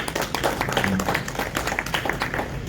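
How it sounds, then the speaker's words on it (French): An audience claps together at a French-speaking gathering, a dense, steady patter of many hands, fairly close and continuous, with faint voices underneath. "Donc, vraiment, on peut l'applaudir encore"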